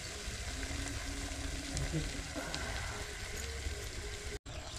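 Chicken sizzles and steams in a pan on a village kitchen stove, a steady low frying hiss running throughout, fairly quiet, with a brief break near the end.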